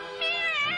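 A cat in the 1994 Peter Rabbit film gives a single drawn-out meow, clear and close with nothing else over it.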